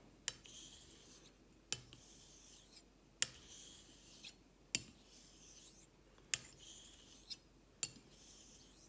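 Straight razor honed on a Japanese natural Jnat stone with nagura slurry over a black Arkansas base: rhythmic wet rasping strokes, each opening with a sharp scrape, close and steady, about six passes with no talking.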